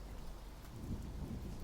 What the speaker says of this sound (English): it suddenly begins to rain.